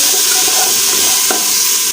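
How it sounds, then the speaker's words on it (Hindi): Spiced masala of salt, red chilli and turmeric sizzles steadily in a pan while being stirred, a continuous loud frying hiss with a brief scrape partway through, no voices. "इसको अच्छी तरह से हिला लूँगी।"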